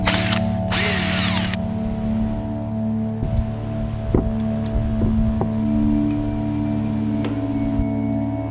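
A power drill whirs steadily at close range, drilling into a motorized bike's handlebar, its motor pitch wavering slightly, with a few brief higher whines and clicks along the way.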